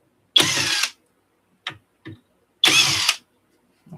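Screws are backed out of a Mackie SR24-4 VLZ Pro mixer, two longer whirring ratchet-like bursts bracketing a couple of short clicks, close and isolated against silence.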